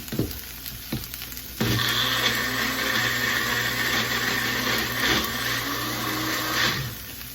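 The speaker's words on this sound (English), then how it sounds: "So I'm going to take this and I'm going to blend this up." A blender whirs loud and steady for about six seconds, blending cilantro, water, garlic and lime, after a few brief knocks at the start, then cuts off near the end.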